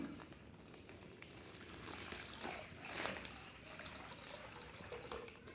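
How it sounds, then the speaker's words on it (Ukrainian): Water pours and splashes softly into a plastic bag, a continuous quiet trickling that briefly swells in the middle. "Наливаємо в наш пакетик воду."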